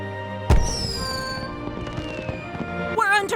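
A sharp firework bang opens a festival scene in a video game, then crackling and whistling bursts follow over layered music, with another bright burst near the end.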